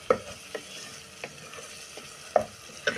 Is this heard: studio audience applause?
no